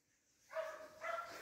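A hunting dog barks while tracking wild boar and deer in the forest, two short distant bursts of barking separated by a brief pause.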